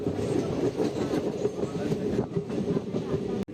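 The Guruvayur–Madurai Express rolls along the rails nearing Karukutty station, a close, loud rumbling of train wagons with rhythmic clickety-clack of wheels throughout, ending with a sharp click.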